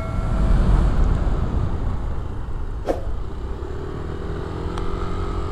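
A Yamaha NVX V2 scooter engine drones while riding on the road to work, its steady hum partly buried under loud wind rush across the microphone.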